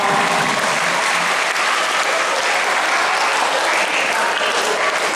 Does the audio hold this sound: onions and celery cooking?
no